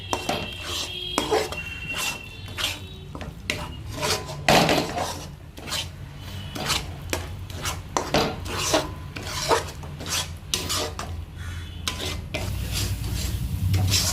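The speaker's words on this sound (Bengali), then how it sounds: "এবার মা এর মধ্যে দিয়ে দেবে 50 গ্রাম কাজু আর সাদা তিল বাটা। এবার এটাকেও ভালো করে কষিয়ে নেবে।" Cashew and white sesame paste being stir-fried into masala for shahi malai paneer, with a spatula rasping and scraping against the pan in steady repeated strokes over a low sizzle, close and fairly loud, no talking.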